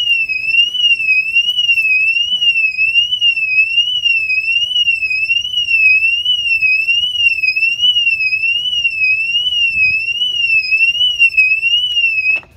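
A loud factory shock-sensor car alarm on a 2012 Mercedes S550 wails continuously in a rapid up-and-down warble, near and steady, then cuts off abruptly at the end.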